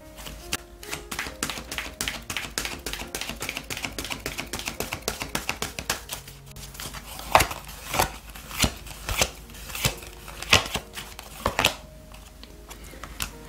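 A deck of oracle cards being shuffled by hand, a rapid run of crisp flicking taps that later turns into slower, heavier riffles and thumps, close up and with no one talking.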